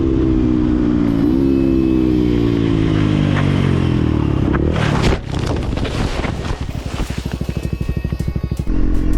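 A Beta motorcycle crashing in a bend at about 80 km/h: a loud engine note winds down in pitch, then a sudden harsh burst of scraping noise gives way to rough, rapidly pulsing rumble with wind buffeting.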